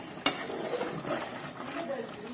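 Wild boar curry, cooked until the oil separates, is stirred in a pan with one sharp clink followed by soft scraping and a quiet sizzle, faint and close, with no talk.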